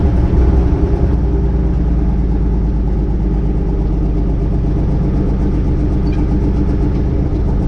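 A 1957 Autocar truck engine runs loud and close at a low, throbbing idle while gears are worked, with a brief rougher surge at the start and then a steady rumble.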